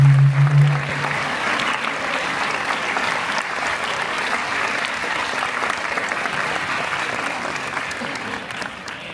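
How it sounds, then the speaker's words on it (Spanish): Sustained audience applause fills a hall at Comic Con Málaga as guests are welcomed. Clapping starts dense and steady from the first moment and carries on evenly, with a brief tone or voice fragment right at the start. "quiero que vosotros les deis un fuerte aplauso a los invitados de esta noche, que son Almudena Arroyo."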